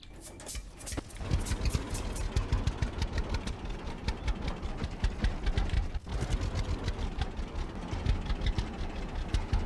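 A tractor engine in the farming game Farmer's Dynasty runs steadily at a loud, rough idle with a rhythmic chug, briefly dipping near the start and again midway before picking back up.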